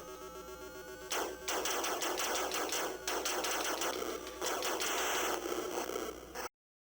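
Retro video game Phoenix on a Collectorvision console, with rapid electronic shooting bursts and crackling static-like blasts in quick succession, ending abruptly.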